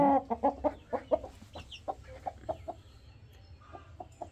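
Hens clucking close by in a backyard coop, a quick run of sharp, rhythmic clucks at first that slow and soften into sparser calls.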